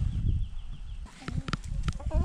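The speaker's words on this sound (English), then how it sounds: "These chickens sure are bunched up." Chickens bunched together in a vegetable garden give off a few short, scattered clucks at moderate distance, mixed with outdoor rustle and breezy background noise.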